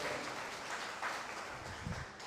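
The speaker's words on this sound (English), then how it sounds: "Give them a round of applause." Audience applause for grant donors at an outdoor sculpture unveiling, a steady, fairly faint wash of many hands clapping that holds evenly throughout.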